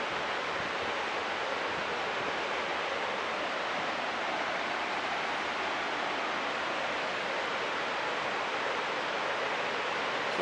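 The Mallet River waterfall, about 60 feet high, pours into a canyon as a steady, dense roar of rushing water that holds constant throughout with no other sounds.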